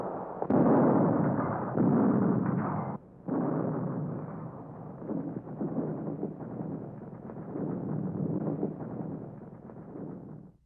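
Anti-tank mines detonated from a safe distance during the Second World War produce a long, muffled, continuous rumble of blasts, loud and thick at first, with one brief gap before the roar continues, unsteady, throughout.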